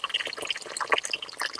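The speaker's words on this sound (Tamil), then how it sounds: "நல்லா சுத்தம் பண்ணிட்டு தண்ணி ஊற்றி ஊற வச்சுட்டேன்." Water is poured over fenugreek seeds and urad dal set to soak, with a fast, close trickling and dripping splash and no voice.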